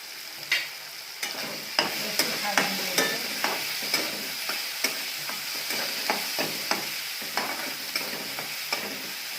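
Turmeric and spices sautéing in a pan for a fenugreek leaf (methi) dish, a soft sizzle under a regular series of close utensil scrapes and taps against the pan, without speech.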